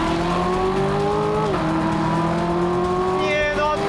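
A Lamborghini Aventador SVJ and a Corvette Z06 rev and accelerate hard together from a rolling start, pitch climbing steadily and dipping once at a gear change, loud and close throughout.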